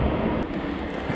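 A train rushes past on a railway line in Croatia, a loud, steady, close rumble and roar filling the whole brief moment with no talk over it.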